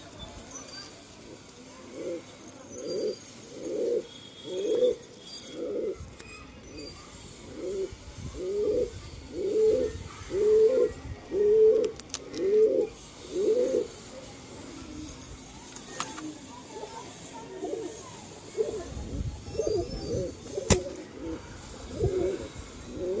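A steady series of rhythmic pigeon coos repeating over several seconds, close by, then fading into scattered softer coos and background rustling.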